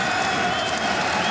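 Poitiers basketball supporters cheer and applaud at Bercy during the 2009 Pro B final against Limoges, a dense, steady roar of crowd noise and clapping that holds at full loudness throughout.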